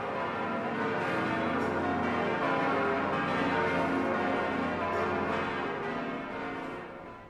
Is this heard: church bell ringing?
yes